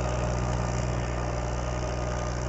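A Mahindra 275 DI tractor engine runs steadily at a low, even idle with a constant rumbling drone, close and loud with no talking over it.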